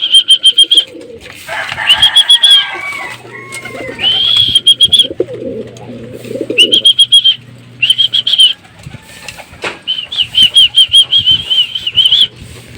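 Racing pigeons at a loft flutter their wings in repeated bursts while landing, loud and close, with soft cooing and occasional whistling between flaps.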